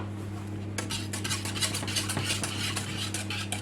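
Egg yolks stirred into lemon pie filling, a soft, rapid series of whisking and scraping strokes against a bowl, close but fairly quiet over a steady low hum.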